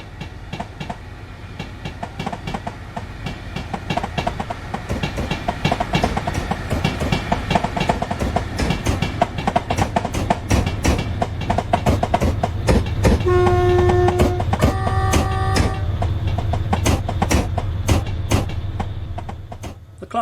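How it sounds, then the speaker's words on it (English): Class 19 locomotive 19001, an experimental engine built from a Mark III DVT, runs a test train in a train simulator game, with a steady low rumble and rhythmic clickety-clack of wheels over rail joints and two short horn blasts partway through. "Now we see a rarity at Landfield North, with Class 19, number 19001, operating a HBRF test train."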